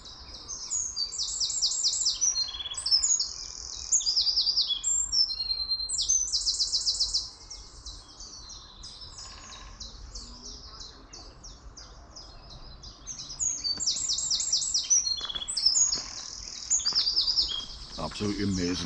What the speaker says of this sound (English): Just listen to that bird song.